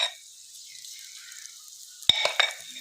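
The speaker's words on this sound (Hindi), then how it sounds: "तो अब इन्हें फ्राई करते हैं।" Small besan fulkiyan, gram flour balls, fry in hot oil in a kadhai with a soft continuous sizzle, then a sharp metallic clink and a burst of louder bubbling and spattering as more batter drops in.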